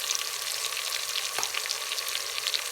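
Ginger garlic paste sizzling with onions in a hot pan for a mixed vegetable curry, a steady crackling fry close up with a brief stir partway through.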